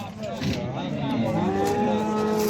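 Cattle mooing loudly and continuously at a livestock market, overlapping low calls from several animals close by, including Simmental cattle, with a steady murmur of market noise underneath.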